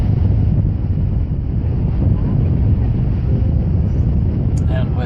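Heavy wind at a Florida beach roars steadily into the microphone as a loud, constant buffeting rumble, with faint surf beneath it.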